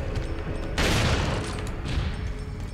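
Gunfire from the video game Resident Evil 4 erupts as a dense, booming burst under steady game background noise, followed by a fainter echoing tail, with no talk.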